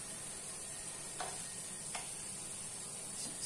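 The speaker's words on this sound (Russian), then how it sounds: "Сейчас будем жарить отдельно лук." Onions frying in a pan for an Armenian salted-cabbage soup, a soft steady sizzle with a few faint stirring clicks, quiet and close.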